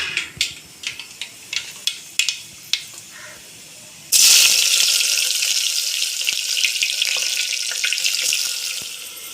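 Dried red chillies and onion hit hot oil after several light taps, bursting into a loud, steady sizzle that slowly eases while frying continues close by, with no voices.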